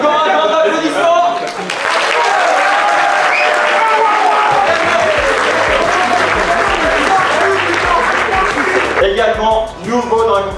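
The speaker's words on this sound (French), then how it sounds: "Encore un grand applaudissement." An audience applauds a competition finisher being announced at a DPS event in French Guiana, loud sustained clapping and crowd noise for several seconds, with a voice speaking before and after.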